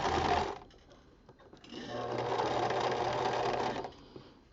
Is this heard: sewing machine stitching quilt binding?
yes